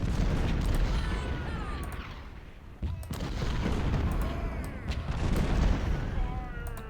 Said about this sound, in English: Need my artillery to start opening up on these guys.